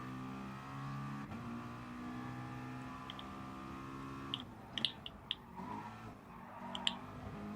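In Gran Turismo Sport, Gr.4 race car engines drone steadily through a lap, with shifting tones as the cars chase two rivals. A few sharp clicks and ticks cut in during the second half. The whole clip is fairly quiet.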